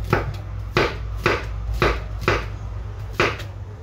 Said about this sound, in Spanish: Y vamos a cortar los trocitos